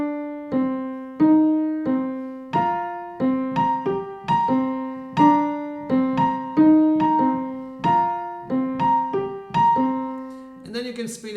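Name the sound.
piano playing Debussy's Snow is Dancing slowly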